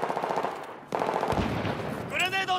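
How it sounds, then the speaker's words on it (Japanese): Light machine gun firing in Battlefield 4, rapid automatic bursts running loud and close through most of the moment, ending in a ringing, whining tail. "軽機関銃は撃ってるだけで楽しいからな"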